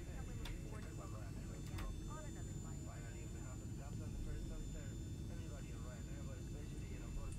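Ryanair Boeing 737-800 in X-Plane 11 taxiing off the runway, a steady low jet engine rumble with a high whine running throughout, under a man's speech.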